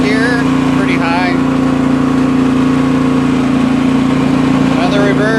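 An Ariens snowblower engine idling steadily in reverse gear, a loud constant mechanical drone with a few faint squeaks over it.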